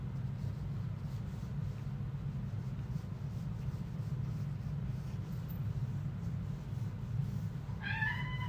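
A cat meows briefly near the end, a short harmonic call rising over steady low background rumble, after a long stretch without it.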